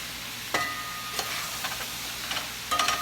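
About two pounds of mushrooms cooking down in a pan for a stroganoff, a soft, even sizzle under a few spoon strokes and brief stirring clatters, no voices.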